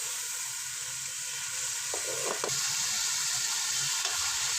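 Pressure-cooked mutton pieces fry in ghee in a pot with a constant loud sizzle, a couple of brief stirring scrapes rising out of it midway.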